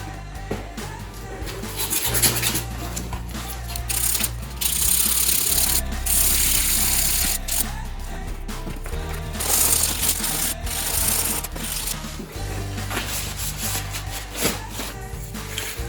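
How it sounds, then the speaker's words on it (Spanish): Hand-sanding polyurethane body filler on a plastic motorcycle fairing, a continuous scratchy rubbing with short strokes that stays close and fairly loud throughout, no talking. "así que vamos a lijarlo de nuevo"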